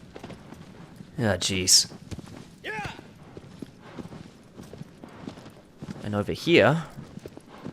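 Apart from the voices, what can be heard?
horse hooves clip-clopping in video game Shadow of the Colossus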